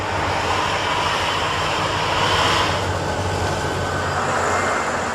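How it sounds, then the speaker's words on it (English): A freight train hauling rock rumbles past, a continuous broad roar of rolling cars and wheels at steady loudness, close and unbroken, with no voices. "The train leaves to get another load of rock and will soon repeat the procedure."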